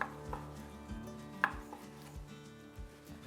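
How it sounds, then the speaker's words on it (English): A knife slices through raw tuna on a cutting board against the muscle fiber for a tartare, giving a steady series of soft, close chopping taps with no talking. "The only thing you need to do is make sure you cut against the muscle fiber once."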